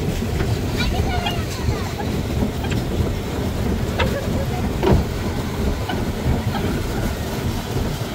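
A racing boat pushes across the water during a boat race near Khulna, Bangladesh, giving a steady rough rumble mixed with wind and water noise, while people shout and talk excitedly over it.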